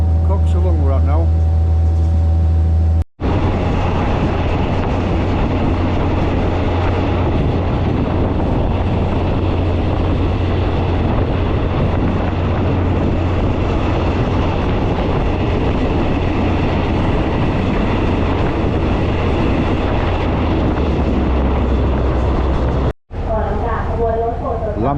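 A Thai third-class train on the Bangkok to Nong Khai line rumbles and clatters steadily around a small station, a continuous loud mechanical drone with a low hum, broken by two brief cuts.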